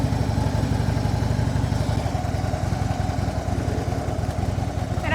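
A motorcycle engine chugs in a low, steady rhythmic idle-like putter during a slow U-turn, close and continuous with slight variations in pace.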